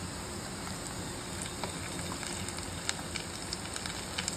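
A spoonful of garlic paste sizzles softly in a hot pan, a faint, steady crackle with scattered pops.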